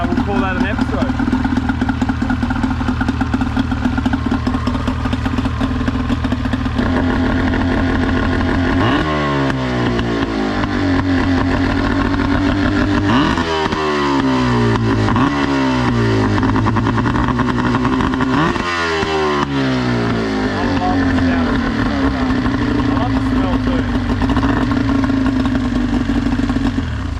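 Small outboard engine on a budget centre-console dinghy idling after a pull start, steady close running with a few throttle blips and someone talking over it.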